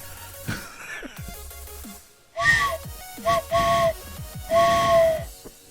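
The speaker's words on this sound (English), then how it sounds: "You want me to blow a train whistle?" A train whistle blown by a person gives three chord-like blasts, the first short, the second split in two, the last longer, fairly loud against a quiet background.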